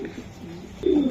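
Racing pigeons coo at a loft, a soft low burble that rises into a louder, fuller coo near the end, with no voices over it.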